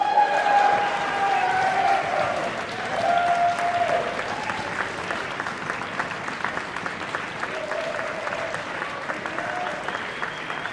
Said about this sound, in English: One more big round of applause for all the competitors